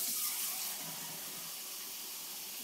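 Cold water runs from a kitchen tap in a steady, close hiss with no talk, while a cup is being measured for a home experiment.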